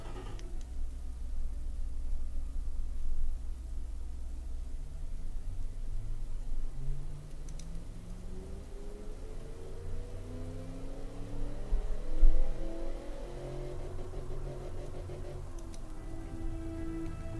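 A coupe engine in Automation with tubular headers, dual exhausts and straight-through mufflers revs up repeatedly, pitch climbing and dropping in rising sweeps over a steady rumbling drone, with a brief cutoff near the peak at the 5400 RPM limit.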